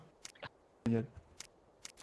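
Sharp, scattered clicks and taps like keys on a computer keyboard, with a brief louder voice-like burst in the middle; close and fairly quiet.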